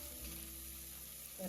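Onions sizzling in hot oil in a pan, a steady soft frying hiss with a brief stir or clatter near the end, no talking.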